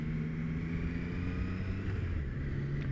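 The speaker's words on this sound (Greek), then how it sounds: "Ίδιος ήχος της τρικυλίνδρης." A Triumph Tiger Sport 660 motorcycle's three-cylinder engine runs steadily, a smooth continuous low hum and drone with no revving, heard alone.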